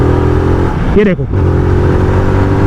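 A Zontes 350R motorcycle pulls in fifth gear at around 4000 RPM, its engine a steady loud drone that briefly dips and then resumes, while someone speaks a few words close by.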